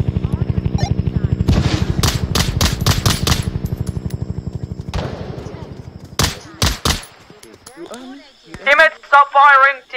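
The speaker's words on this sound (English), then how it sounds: "Teammates, stop firing, they are friendly." Loud automatic gunfire in the Vietnam map of Onward VR, with a rapid sustained burst followed by sharper separate shots, and a voice talking over the firing at the end.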